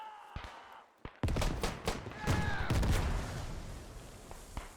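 Gunfire and bullet impacts in the World War I shooter game Beyond the Wire, a burst of loud thumping shots and impacts after a brief quieter passage, rumbling and overlapping, with a voice briefly heard near the start.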